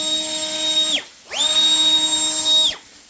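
A cheap cordless air blower runs in two bursts, a loud high-pitched motor whine that spins up, cuts out briefly with a falling pitch, then revs again and winds down.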